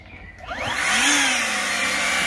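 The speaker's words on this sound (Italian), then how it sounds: "in un attimo come andiamo a ripulire attraverso il soffiatore" Ego Power leaf blower clearing sawdust, spooling up within the first second into a loud, steady whooshing roar that holds alone to the end.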